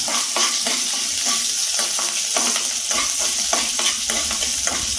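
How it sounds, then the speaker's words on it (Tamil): Chana dal and onions frying in oil over a medium flame, a loud steady sizzle with repeated scraping stirs of a spoon against the pan, close up and with no talking. "கடலைப்பருப்பும் அந்த எண்ணெயிலே வெந்துடும்."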